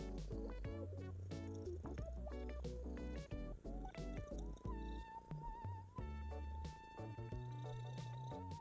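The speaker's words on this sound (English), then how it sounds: "Shut up. That's not a car, that's my cat." A domestic cat purrs with a low, continuous rumble, faint and mixed under layered tonal music from an LA Noire game session.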